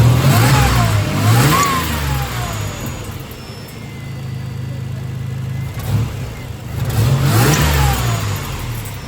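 A turbo Buick fitted with a new ignition coil and spark plugs drives down the road, its engine revving up and easing off in repeated rising pulls, loud and close, with occasional speech underneath.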